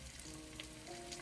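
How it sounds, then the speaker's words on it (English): Cornstarch-coated chicken deep-fries in oil at 375 degrees, Louisiana style, with a faint, even and unbroken bubbling sizzle and no voices. "Our oil is nice and hot at 375 degrees, and we're going to fry this until"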